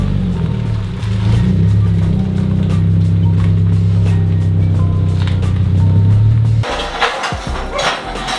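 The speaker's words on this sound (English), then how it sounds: "let me move the cross track real quick and bring our BRZ into the garage here" A Subaru BRZ driven into a garage, its engine a loud, steady low drone close by that cuts off abruptly near the end, followed by quieter rattles and clatter.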